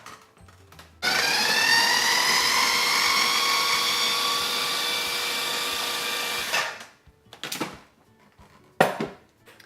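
A food processor blends cucumber, garlic and dill for a dill ranch sauce, whirring loudly and steadily for several seconds, then stopping and giving two short pulses.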